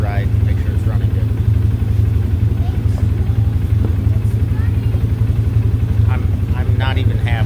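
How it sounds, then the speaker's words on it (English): A recently repaired Polaris vehicle's engine runs steadily nearby with a throbbing, motorcycle-like idle throughout, while someone talks over it. "It's a Polaris, but it is running."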